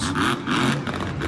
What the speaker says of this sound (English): truck sounds like it's having some problems